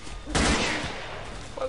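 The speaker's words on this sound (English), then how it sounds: "Tolik shooting it." Video game gunfire from a character shooting in a bunker bug-out scene: a sudden loud burst of several rapid shots that fades into a lingering rumble, with a voice speaking nearby.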